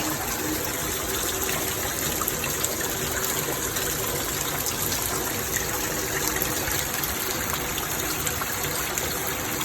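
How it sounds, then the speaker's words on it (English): Water pours heavily from the top of a house in New Orleans, a continuous dense gushing and splashing that stays loud and even throughout with no voices. "you can see how much water is actually pouring from the top of the house"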